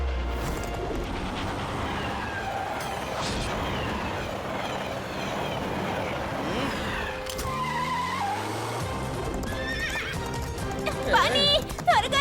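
Cartoon horse ride with a horse neighing and hooves clip-clopping, mixed with vehicle sounds and skidding, while voices talk over it.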